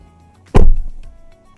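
A Geely EX5 electric SUV door is swung shut with a single solid thump, close and loud, followed by a short low resonance in an otherwise quiet setting.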